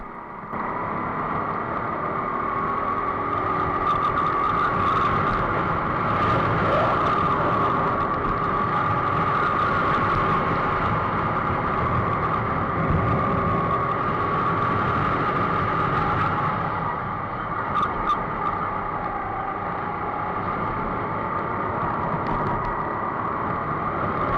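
A racing go-kart drives a lap of a karting championship endurance race, its engine a steady, unbroken drone heard from on board, rising and easing only slightly through the whole lap.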